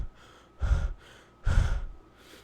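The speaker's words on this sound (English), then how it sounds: "if you are a mouth breather" A person demonstrates mouth breathing with two loud, rushing breaths about a second apart, each a broad airy whoosh heard close up against a quiet background.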